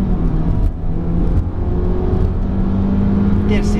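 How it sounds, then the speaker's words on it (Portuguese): A Fiat Toro 2.4 automatic pickup engine pulls hard and steadily through its gears, a loud, continuous drone with a constant hum underneath that holds for the whole stretch. "vamos acelerar até 100 km por hora para ver como é que a Toro se comporta"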